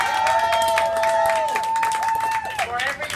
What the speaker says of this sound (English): I want to hear a loud applause for the courage of every single person that has come up here